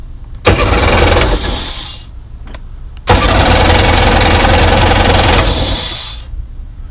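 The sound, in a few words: 1998 Sea-Doo GS jet ski engine starting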